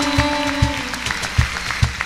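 Audience at a concert in Chiapas applauding, a dense wash of claps with a few louder hits standing out, fairly close and steady throughout.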